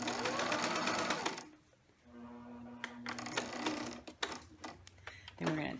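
A sewing machine stitches the seam of a Minnie Mouse pillowcase dress, running in a fast steady whir, pausing, then starting again in short bursts, close and clear with a faint voice in the gaps.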